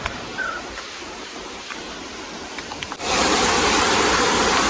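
Nalagana Ella waterfall roars as a steady broadband rush of falling water. The rush grows suddenly louder and fuller halfway through, as if heard from much closer to the falls.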